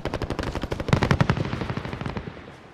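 Automatic gunfire in Call of Duty: Modern Warfare, a close, rapid machine-gun burst of evenly spaced shots that fades out over its final second.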